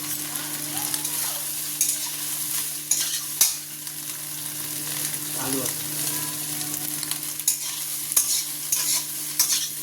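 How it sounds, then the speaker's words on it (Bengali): Soybean chunks frying in hot oil in a pan after potatoes, a steady loud sizzle with occasional stirring scrapes and a few soft clicks, no voices. "এবার এই তেলের মধ্যে সোয়াবিনগুলো ভেজে নেবো"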